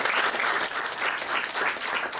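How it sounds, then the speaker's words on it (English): A conference audience applauding volunteer moderators, loud, dense clapping that pulses slightly in waves for about two seconds. "Round of applause."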